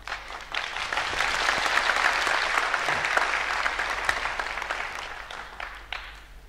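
Applause from a concert audience at a Kabuki-za special anniversary performance. It swells quickly into a dense, sustained roar of clapping, then thins gradually over about six seconds.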